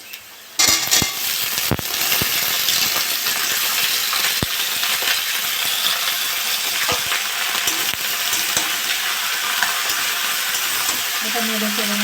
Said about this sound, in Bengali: এটা নেড়ে চেড়ে ভালো করে ভাজবো।